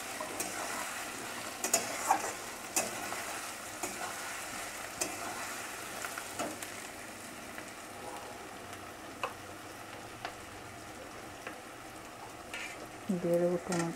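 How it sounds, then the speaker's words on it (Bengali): Garlic fries in a pan for a Bengali-style soybean curry, a soft continuous sizzle broken by repeated clicks and scrapes of stirring, with a louder burst near the end. "রসুনটা দুটো নিয়ে ভাজা ভাজা করে"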